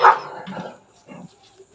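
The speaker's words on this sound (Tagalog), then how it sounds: "Ayan na naman po sila. Ang mga aso naming magbabait." A dog gives a sharp bark followed by a few softer yips and whimpering barks, fairly close, with short gaps between.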